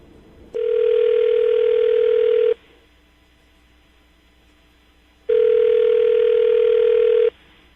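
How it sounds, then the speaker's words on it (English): Two long, loud steady telephone tones on a landline call, each lasting about two seconds, separated by a quieter pause like a ringback pattern, heard alone without talk. "I'm going to dial the phone number right now"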